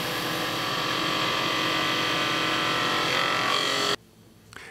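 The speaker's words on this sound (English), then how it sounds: "make another cut with my skew chisel" A skew chisel cuts wood on a lathe while forming a bead, producing a steady, loud hissing shave over a spinning drone that stops abruptly near the end.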